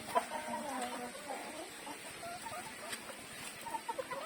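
Chickens cluck in scattered, irregular bursts against a steady outdoor background hiss, moderately close and fairly quiet, with no talking.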